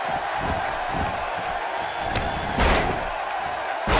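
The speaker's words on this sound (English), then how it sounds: "He slams him down with authority." Heavy body slam onto a wrestling ring mat during a four-way match, a couple of dull thuds over steady crowd noise with a brief sharp impact midway.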